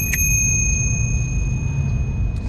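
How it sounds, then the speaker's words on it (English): A tiny bell on a 1990s Peugeot Cadet mountain bike gives one sharp ring that lingers as a clear, steady metallic tone over low background rumble. "And a bell."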